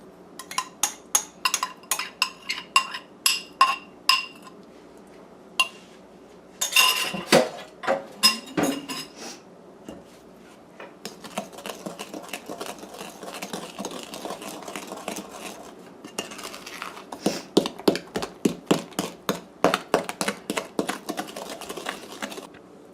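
A utensil mixes mashed bananas into banana bread batter in a bowl, making repeated rhythmic scraping and clinking strokes that come in bursts with short pauses between them.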